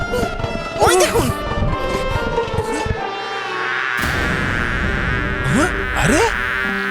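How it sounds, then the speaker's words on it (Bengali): A bee buzzes and darts around nearby, its whining drone rising and falling continuously beneath people talking. "খুব অসভ্য তো এই মৌমাছিটা, আপনার নাকে গিয়ে বসেছে।"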